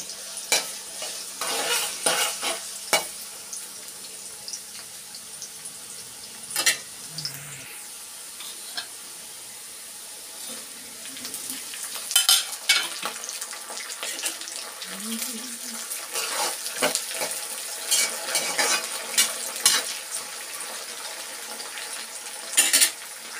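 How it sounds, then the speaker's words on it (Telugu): Carrot pieces fry in oil with a soft, continuous sizzle, punctuated by sharp scraping stirs and clinks from the pan, moderately close, with a brief voice now and then. "ముందుగా క్యారెట్ ముక్కలు ఫ్రై చేసుకుంటానండి."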